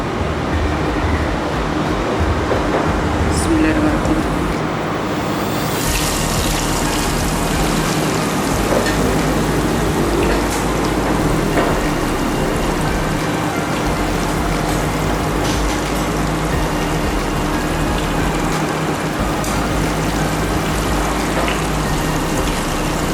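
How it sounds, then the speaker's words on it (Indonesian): Marinated turmeric chicken deep-fries in hot oil, a loud, steady, dense sizzle and crackle that runs unbroken throughout, close up with no talking. "kita goreng ayam ini hingga las masak atau kering"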